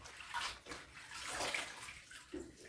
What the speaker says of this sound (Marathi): परत पाण्यात स्वच्छ काढली पाहिजे.